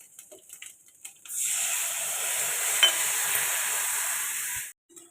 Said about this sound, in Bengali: দেখো ঝোলটা ফুটছে